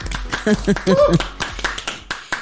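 A few light, polite golf claps tap softly and unevenly while voices talk over them on a talk-show set.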